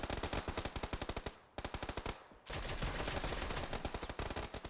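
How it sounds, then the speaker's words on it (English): Rapid automatic gunfire in a PUBG esports match, long bursts of loud, evenly spaced shots with a brief pause before a denser continuous volley, close and dominant. "I'm liking the shots there"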